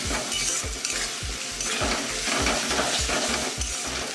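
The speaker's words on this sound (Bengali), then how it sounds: "ভালো করে কষে নেবো।" Ginger and garlic paste sizzles and fries in a pan for chicken biryani, stirred with a spoon that scrapes in a steady, repeated rhythm over continuous loud frying, no voices.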